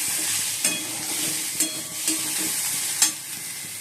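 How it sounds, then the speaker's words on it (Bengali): Potatoes frying in a pan give a continuous close sizzle, broken by a few sharp spatula scrapes and clicks at irregular moments, with no voices. "এই আমরা আলুটা ভেজে নিচ্ছি"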